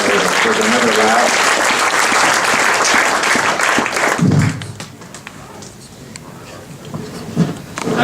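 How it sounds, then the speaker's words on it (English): An audience at a Mobile Monday Silicon Valley tech meetup gives a big round of applause, loud and dense for about four seconds, then dropping to sparse scattered claps and a few thumps. "let's give them a big round of applause"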